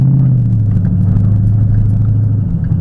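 A 2011 Ford Mustang GT V8 drones in a steady, loud low rumble while cruising, its pitch dipping slightly early on and then holding even throughout.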